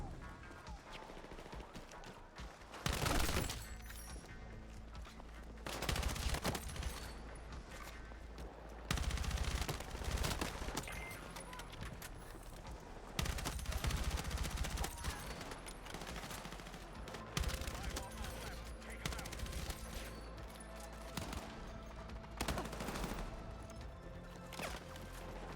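M4 rifle gunfire in Battlefield 6 rings out in loud, sharp bursts every few seconds, with quieter firefight noise and rattling shots from other guns filling the gaps between them.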